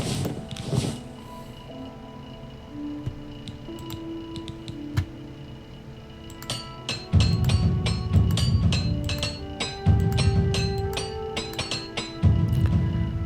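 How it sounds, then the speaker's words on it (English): Repair hammer being used in the game Oblivion Remastered, giving a series of light metallic clinks and ticks that become denser and louder partway through, over a low background hum. "We'll use that repair hammer."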